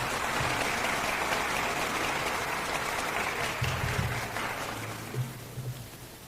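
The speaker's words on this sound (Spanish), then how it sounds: "Agradecemos la presencia del ponente y le brindamos un fuerte aplauso" Audience applause for a speaker at an intensive teachers' workshop in Mexico City, a continuous broad wash of clapping that holds steady and then gradually fades toward the end, with faint low rumble beneath.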